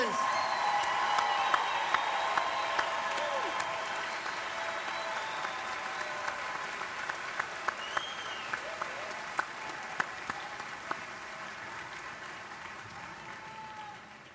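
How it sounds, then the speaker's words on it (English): Commencement audience at Millersville University's winter ceremony applauding the graduates, a sustained roomful of clapping with scattered cheers and whoops, voices mixed in throughout. "Can we have one more round of applause for all the graduates from all the colleges?"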